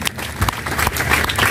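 Congregation applause at a church worship gathering, a dense steady clapping texture that runs the whole time at fairly loud level, with no speech over it.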